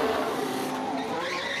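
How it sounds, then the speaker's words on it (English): Formula 1 car on Pirelli hard tyres screeching as it pulls out of the pit lane into the fast lane, a loud, sustained tyre squeal over engine noise lasting under two seconds. "Hard tyres attached, the screech from the Pirelli rubber as he rejoins the fast lane of the pit lane."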